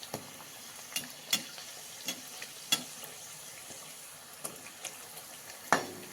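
Methi puris deep-fry in oil, producing a faint, continuous sizzle broken by scattered light pops and ticks, heard quietly and at a slight distance.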